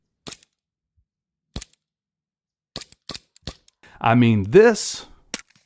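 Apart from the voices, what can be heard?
suppressed pistol shot from a YouTube suppressor review video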